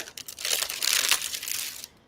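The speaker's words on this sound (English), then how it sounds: "that's a fantastic sound that the paper makes" Transparent paper crinkles and rustles close by for a couple of seconds, a crisp, bright crackling that swells and then fades.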